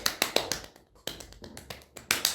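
Sharp hand claps in quick irregular bursts, close and dry, with brief pauses between the groups.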